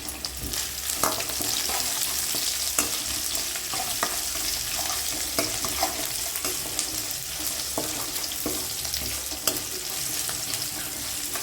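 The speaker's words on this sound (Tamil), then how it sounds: "இந்த பழைய சாப்பாடு வறுக்கிறது" Leftover cooked rice fries with onions in a pan, a steady close sizzle with frequent scraping stirs and clinks throughout, no speech over it.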